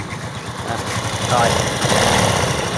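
A rebuilt Jupiter motorcycle engine runs on test, chugging steadily up close and rising slightly in level partway through, while someone talks over it.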